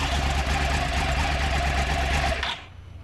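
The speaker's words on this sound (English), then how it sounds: "That's the new uneven firing interval cross-plane crankshaft." A 2009 Yamaha YZF-R1 with an uneven-firing cross-plane crankshaft engine runs steadily and loudly up close with a dense, buzzing, throbbing note, then cuts out abruptly near the end, leaving a quiet low hum.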